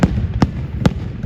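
Fourth of July fireworks show at Camp Lejeune: three sharp, loud bursts about 0.4 seconds apart, each a broad crack over a steady background wash of crackle and distant booms.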